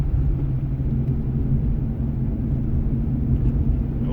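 Inside a moving car, a dense, steady low road rumble and engine drone fill the cabin with no break, with no voices and only faint higher tire noise.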